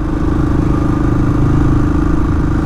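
A Royal Enfield Classic 500 motorcycle engine labors steadily in third gear climbing a steep mountain hill, a close, loud, continuous low drone with a rhythmic pulsing chug.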